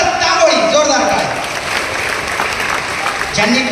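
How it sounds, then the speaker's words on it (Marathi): A large crowd at a temple event in Maharashtra gives loud, sustained applause for a young drummer who plays dholki, dhol and pakhawaj, the clapping close and continuous, with a voice faintly audible over it. "हेमंत तांबोळी, जोरदार टाळ्या"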